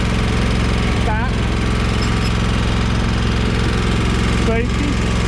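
A commercial walk-behind lawn mower engine runs loud and steady at close range, a constant droning rumble with faint rising whine sweeps twice over the engine.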